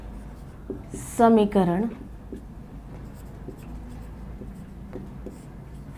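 A pen scratches faintly across paper while a maths solution is written out, soft strokes running through a quiet room, with a short spoken word partway through.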